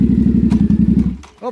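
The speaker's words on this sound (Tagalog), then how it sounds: "Si Papa Dan may big bike na." A big bike's engine thumps in a close, rapid, loud idle pulse, then briefly drops away as a voice begins at the end.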